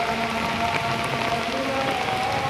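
Heavy rain pours steadily in Dhaka under a darkened sky, a dense, even hiss of drops on surfaces with no pauses.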